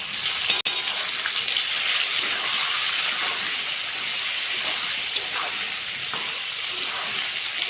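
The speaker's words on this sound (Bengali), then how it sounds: "পরিমাণ মতো লবণ এবং পরিমাণ মতো হলুদ দিয়ে আলু ও কচুটিকে আমরা খুব ভালোভাবে ভেজে নেব।" Potatoes and taro fry in hot oil with salt and turmeric, a continuous soft sizzle with faint crackles and an occasional sharp clink of a utensil against the pan.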